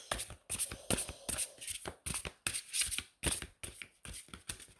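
Tarot cards handled and drawn from a deck: a run of crisp, papery riffling bursts in a quick, uneven rhythm, close and fairly loud, with no voices.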